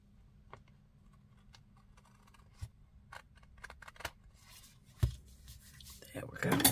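Scissors snip off a small piece of material during model layout work, a few faint, scattered crisp cuts and rustles close by in a quiet room, with louder handling at the end.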